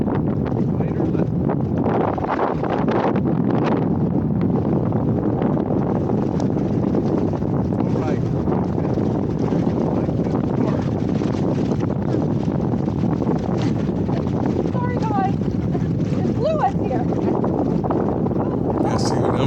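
Strong wind roars across a microphone while kayaking on the Colorado River at Lees Ferry, a constant loud rumbling buffet that never lets up, with voices talking faintly beneath it.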